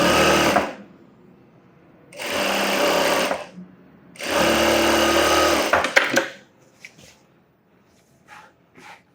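A sewing machine stitches the edge of a scalloped-model blouse in three loud, steady bursts of about a second or two each, separated by short pauses, followed by faint handling clicks.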